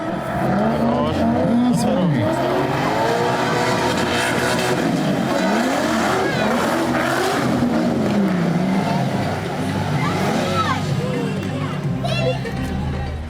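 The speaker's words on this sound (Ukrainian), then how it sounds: "показати парний дріф настільки, наскільки він був можливий саме на цьому вологому покритті" Drift cars running paired on a wet, damp racetrack, with engines revving up and down in sweeping whines and tires hissing, continuous and loud throughout, while a voice talks over it.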